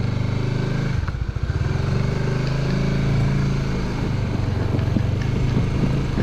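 A large motorcycle engine rumbles steadily at close range, with a low, continuous drone and faint mechanical clatter.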